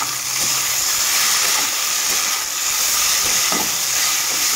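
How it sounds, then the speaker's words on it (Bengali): Okra and potatoes fry in a pan with green chillies in a Bengali-style bhaja, a loud, even sizzle and hiss with a few soft stirring scrapes. "আমার ভেন্ডি আলুটা মোটামুটি ভাজা ভাজা হয়ে গেছে, আরও 5 মিনিটের মতো আমি ভাজা ভাজা করে নেব"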